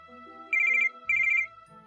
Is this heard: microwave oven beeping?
no